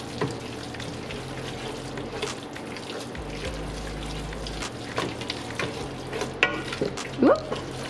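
A spoon stirs eggplant ragu with tomato paste and olive oil in a pan, giving a steady soft sizzle with scraping clicks and a few louder knocks near the end, with no voices.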